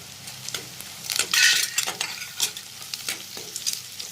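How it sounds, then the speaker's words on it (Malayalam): Curry leaves hitting a pan of frying onions and chilli set off a close, bright burst of sizzling and spattering, with spoon scrapes and stirring strokes in an uneven rhythm that settles into a steady crackle. "ഇനി അതിലേക്ക് നമുക്ക് കരിയാപ്പിലയും കൂടി ഇടാം"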